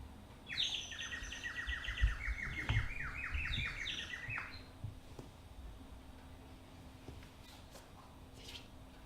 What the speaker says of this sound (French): ton oiseau, il a chanté